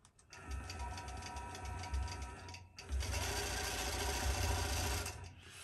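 Longarm quilting machine stitching a couching line on a quilt, a steady rapid mechanical hum and rattle running continuously after a brief pause, close and fairly loud, without talk.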